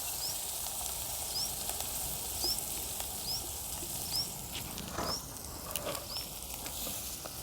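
Ginger dropped into hot oil with softened onions, giving a steady close sizzle and light patter of frying throughout.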